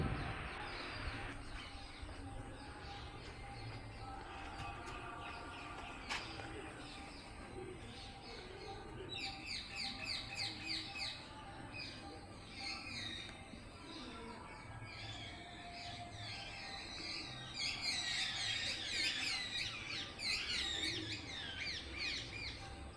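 Pigeons and parrots call around the Vaaleswarar Temple at Valikandapuram, with distant chirps and squawking trills coming in clusters over faint, steady outdoor background noise.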